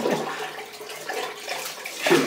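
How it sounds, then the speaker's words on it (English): Water splashes and trickles while a shaving soap dish is rinsed out in a bathroom sink before a shave with a Gillette Aristocrat razor, soft and close with uneven gushes. "I'm just rinsing out my soap dish."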